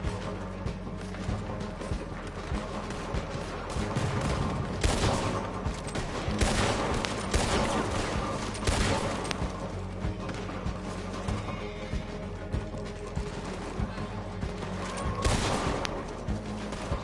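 Enemy gunfire in a video game, dense rapid bursts of shots crackling continuously for the whole stretch at a fairly moderate level, with no voices over it.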